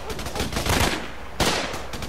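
Enemy gunfire in the shooter game Raven Squad comes as rapid bursts of close, loud shots, an automatic volley followed by a sharp blast, with no talk over it.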